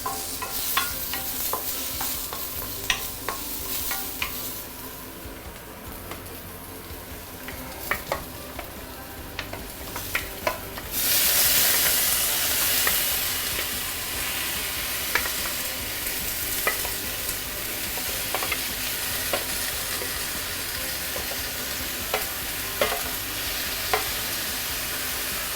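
Pork leg frying with ginger in a pan, a loud continuous sizzle with scattered crackles and pops that swells midway and keeps going, with no talk.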